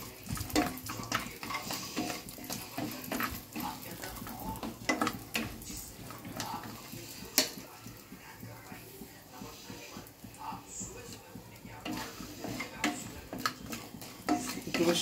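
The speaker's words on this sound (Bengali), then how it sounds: "বড়িটা ভেজে নিচ্ছি" Bori lentil dumplings fry in a pan for a Bengali banana-blossom dish, a quiet sizzle under frequent clinks and scrapes of a utensil against the pan, with occasional soft voices nearby.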